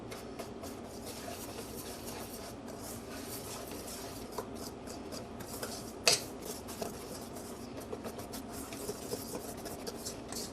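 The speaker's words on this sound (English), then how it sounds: "Stir this all together." Spoon stirring molasses into crowder peas and rice in a pot, quiet steady scraping and rubbing with light clinks and one sharp knock midway, no talk.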